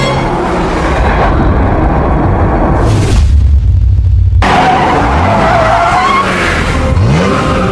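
A car brakes hard into a long, loud tire skid, the squeal rising over a roaring engine and noisy rumble, with a brief burst midway before the screeching resumes.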